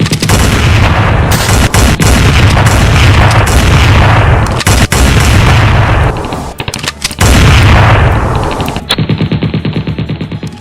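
Gunfire plays as a sound effect in a documentary about the cangaceiro Lampião passing through Uiraúna. A loud, sustained barrage of rapid shots and booms rolls on for several seconds and ends in a rattling burst.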